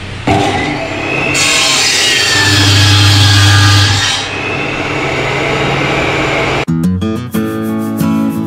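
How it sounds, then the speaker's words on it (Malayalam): A close, loud hand saw cuts a piece of wood for a homemade wooden lathe, giving a steady rasping stroke that fades out, followed by a short burst of other sound at the end. "നമ്മളൊരു 20 സെൻറ്റിമീറ്റർ പീസ് കട്ട് ചെയ്തെടുക്കാം"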